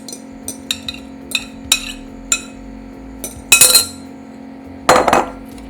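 A whisk folds egg yolk into goat-cheese grits in a bowl for a soufflé, giving a run of sharp metallic clinks and taps followed by two louder, brisk scraping bursts, close and unaccompanied by talk.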